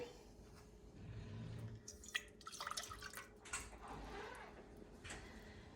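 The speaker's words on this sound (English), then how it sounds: "You take your cup of cold water, pour it into your saucepan." Cold water poured into a saucepan, a soft splashing trickle with a few drips, quiet and close, with light clattering in the background.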